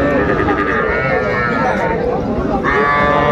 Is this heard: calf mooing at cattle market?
yes